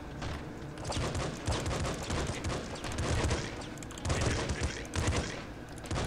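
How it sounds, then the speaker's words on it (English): A disc gun fires in rapid bursts in the video game Nuclear Throne, dense clattering volleys with short gaps between them, mixed with other game effects. "That disc gun came in handy."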